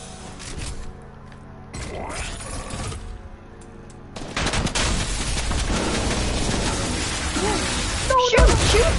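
Rapid bursts of automatic gunfire with mechanical clatter in a shooter video game, quieter at first and then loud and sustained through the latter half.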